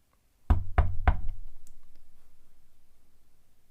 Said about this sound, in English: Needing to check on Serena, he slowly made his way back through the ship before knocking on the door leading to the bridge